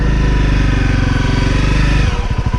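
A Honda CRF250L motorcycle rides off-road in first gear, its engine loud and close with a strong, steady low drone. The engine note shifts and turns choppier near the end.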